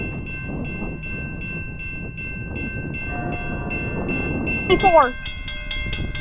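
A train horn sounds in repeated blasts at a railroad crossing, loud and close, over rumbling rail noise, with a brief spoken word during the passage.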